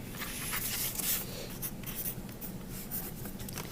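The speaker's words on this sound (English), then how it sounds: "I need to put my name on all three of these." A pen writes a name on sheets of paper, giving a close, steady scratching that continues throughout without talk.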